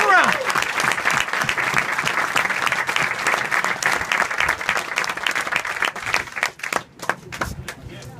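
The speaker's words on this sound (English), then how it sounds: "Please join me in a round of applause for these parents." An audience at the Devil Pups graduation ceremony gives the parents a round of applause, a dense, sustained clapping from many hands that thins out toward the end.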